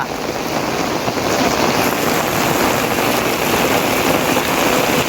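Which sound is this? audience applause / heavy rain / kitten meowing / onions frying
heavy rain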